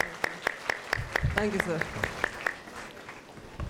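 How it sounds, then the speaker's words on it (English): A sparse, rhythmic round of clapping at a college freshers' day event, a few sharp hand claps at a steady beat rather than a full crowd ovation, with a brief spoken voice in the middle. "Give a big clap to her."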